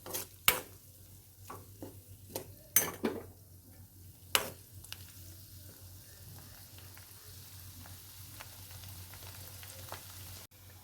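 Chopped onion frying in a pan for a curry with chili, turmeric and coriander powders added. A steady close sizzle runs throughout, with several sharp clinks and scrapes of stirring in the first few seconds and no talking.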